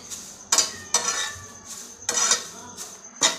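Fenugreek leaves dry-roasting in a pan are stirred with a metal spatula, giving four or five distinct scraping, clattering sweeps spaced about a second apart, close and fairly loud, with a faint hiss beneath.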